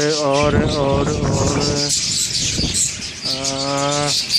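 Budgerigars chirp and warble continuously and loudly, close by, with a layered chatter of calls running throughout; a person talks in brief stretches over the birds.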